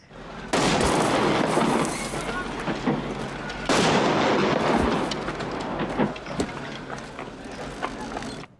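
Gunfire from the film Schindler's List: two loud, sharp blasts roughly three seconds apart, each trailing into a long, noisy rumble and echo, with no voices.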